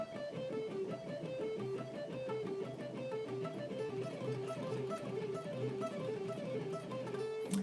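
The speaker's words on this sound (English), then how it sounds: "And here's a nice little economy picking lick for you." A guitar plays a quick five-note pentatonic lick with economy picking on the two highest strings, repeating in a steady run of close, clear notes, alone and at moderate volume.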